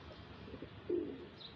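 A white pigeon, the first bird of a home pigeon flock, gives one short, soft coo at low volume amid quiet background noise.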